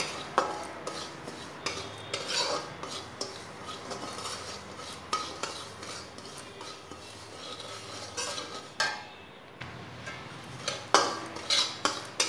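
Semolina being roasted in a pan over a low flame while a spoon scrapes and taps against the metal in a steady, irregular rhythm, with only a soft sizzle underneath and no talking.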